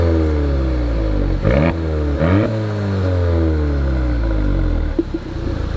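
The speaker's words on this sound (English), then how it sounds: "Can you rev my car a little bit?" Volkswagen Mk7 GTI with a catless downpipe revving repeatedly, loud and close, with sharp throttle blips rising and falling over a steady idle, no voices.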